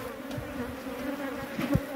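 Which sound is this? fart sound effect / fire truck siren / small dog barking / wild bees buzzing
wild bees buzzing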